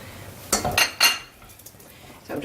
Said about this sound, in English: So I'm just going to mix that in like so.